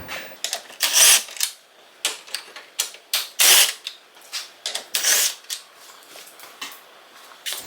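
A hand ratchet works loose 10mm bolts on the grille of a 4th gen Toyota Tacoma, a close series of quick clicking bursts repeating in uneven runs with short pauses between them.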